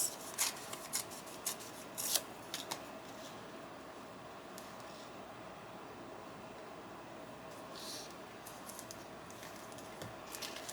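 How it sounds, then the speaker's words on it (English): Hand-torn pieces from a paper pad rip in short, crisp, faint bursts close by, clustered at the start with a few more near the end and quiet rustling between, no voices. "I'm just gonna tear this."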